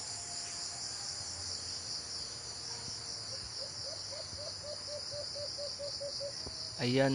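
A caged pet bird gives a quick run of about a dozen repeated chirps over steady insect-like background trilling. A voice speaks one brief word at the end.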